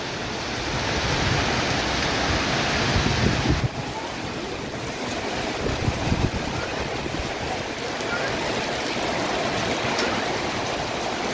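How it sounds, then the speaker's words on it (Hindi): Rushing river water near Omkareshwar roars as a dense, steady wash of noise, loud and close, with wind buffeting the microphone and no break in the flow. "देखो भाई साहब कितना खतरनाक पानी है।"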